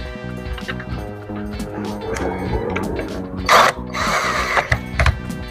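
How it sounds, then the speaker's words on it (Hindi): Cylinder screws being driven into an aluminium door lock, a run of close, busy ratcheting and metallic clicks with a brief louder scraping burst midway. "तो ये सिलेंडर के स्क्रू है, सिलेंडर के स्क्रू लगा लेते हैं।"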